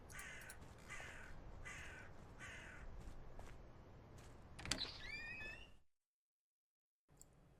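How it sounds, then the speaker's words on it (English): Crows cawing in the horror adventure game Related, a few harsh calls near the end over a dense ambient bed, followed by a sudden drop to silence and then quiet background returning. "Crows seem to be frequent guests here."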